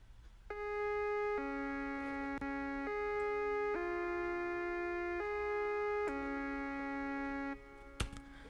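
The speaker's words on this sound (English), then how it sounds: "So for this I used a mixture between a saw and a pulse wave" A synth lead built from a mix of saw and pulse waves, mostly saw, plays a slow melody of sustained notes with gliding changes between them, steady and moderately quiet, ending with a brief click.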